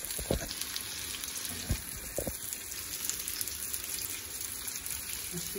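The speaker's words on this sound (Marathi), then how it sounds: "हे पहा किती छान कोलंबी आपली फ्राय होत आहे." Large prawns fry in oil with garlic, making a steady, moderate sizzle with occasional sharp pops and spatters, heard close and without any talk.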